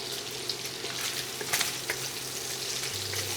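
Food sizzles steadily in a pan while onions wait to go in, with a constant crackling fry, a few louder pops and a low hum underneath, close and fairly loud with no talking.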